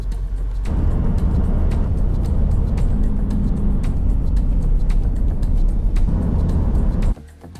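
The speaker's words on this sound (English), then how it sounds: "Troopy loves climbing hills, BadGaz." A Toyota Troop Carrier labours uphill with a steady, loud low engine drone and road rumble heard from inside, holding constant before cutting off abruptly near the end.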